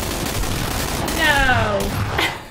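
Gunfire in PlayerUnknown's Battlegrounds, with shotgun and M16 in play during a squads match: a continuous muffled rattle of shots with a sweeping whistle and a sharper burst near the end, under occasional talk.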